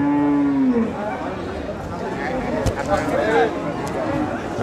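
A bull moos at a cattle market in Boda, Panchagarh. Its deep, drawn-out low, close at hand, rises over the constant hubbub of a crowd and someone talking.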